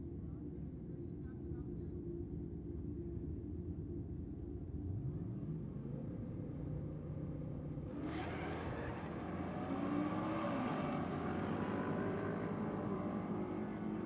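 Drag racing cars, including a Ford Capri, launching side by side at a night event, engines roaring steadily before a louder surge of acceleration midway, with a commentator talking over the noise.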